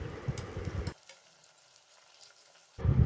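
Chopped tomatoes, ginger and green chili fry for ghugni, a close sizzle with stirring that drops to near silence for about two seconds before the frying noise returns, loud.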